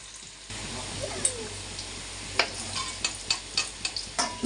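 Potatoes fry with turmeric in a home-kitchen pan, giving a steady low sizzle broken by sharp clinks and scrapes of stirring that grow more frequent toward the end, with no talk.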